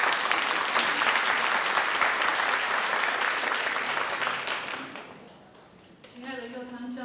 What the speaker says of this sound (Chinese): 我们就拍手来欢迎邱牧师。